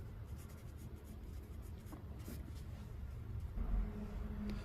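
Pen writing out a Class 10 maths solution scratches continuously and softly on paper at close range, with faint background hum and a brief louder thump near the end.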